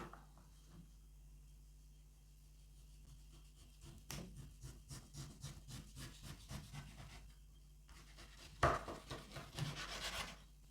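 A knife slicing through pork fat on a board, with repeated short cutting strokes growing louder toward the end, close and quiet.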